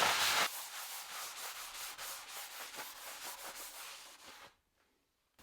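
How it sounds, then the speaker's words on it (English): Grease being wiped off the cast-iron table of a new Axminster Professional AP2552B bandsaw: a close, steady run of rhythmic rubbing strokes for about four seconds, then it stops abruptly into near silence. "I'm going to clean the grease off this table"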